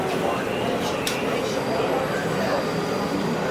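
A low, steady rumble of a passing Canadian Pacific train near Ashcroft, British Columbia fills the clip, constant and fairly loud with faint higher rattles.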